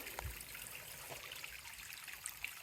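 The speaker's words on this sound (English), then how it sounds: "Little water source," A small mountain stream in Linville Gorge trickles softly and continuously, a faint close babble of water with light splashes and no voices.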